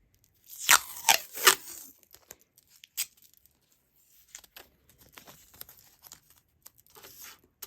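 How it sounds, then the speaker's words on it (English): Strips of tape are torn off a roll to fix wax paper down for paper bead making: three sharp rips close together, then fainter crinkles and taps of the tape being pressed down. "we're just going to tape down our wax paper"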